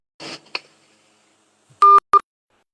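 Telephone keypad tones sound during a call, two sharp close beeps in quick succession following a brief burst of talk.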